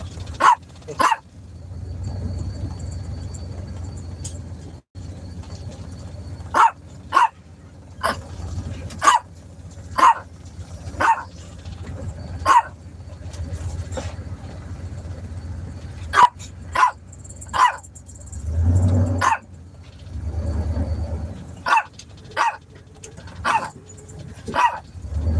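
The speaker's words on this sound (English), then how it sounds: "What are you barking at, Chico?" A dog barks repeatedly nearby, sharp loud woofs in irregular bursts, some in quick pairs, with low rumbling noise between.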